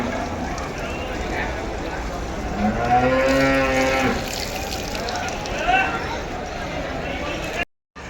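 A domestic buffalo at the Maur cattle market lets out one drawn-out, nearby low in the middle, over a steady backdrop of market noise and murmuring voices.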